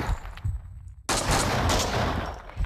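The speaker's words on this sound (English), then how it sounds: "Stop shooting at me, really." Gunfire in the Max Payne 2 shooter game: a few scattered shots, then a sudden dense, loud barrage of rapid gunfire that continues unbroken, with no talk over it.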